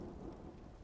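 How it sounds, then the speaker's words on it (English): Steady rain falls with a low rumble of thunder underneath, a dense, even wash of noise close around the listener with no voices. "I mean, it is raining."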